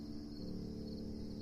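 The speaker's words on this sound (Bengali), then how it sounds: "ঝিঝি পোকার ডাক ভেসে আসছে" Crickets chirping on an evening in a cartoon, a steady faint high trill running continuously without pause, with no voices.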